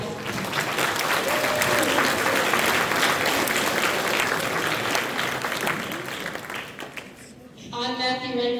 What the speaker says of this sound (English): Let's show our appreciation for the wind ensemble with another round of applause.